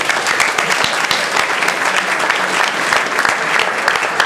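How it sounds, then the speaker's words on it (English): A crowd at a Delaware Democratic Party jamboree gives a loud, dense round of applause that holds steady throughout, with no voices over it. "And you give him one more round of applause for it."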